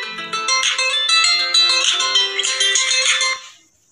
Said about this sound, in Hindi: एक सेकंड फोन आया।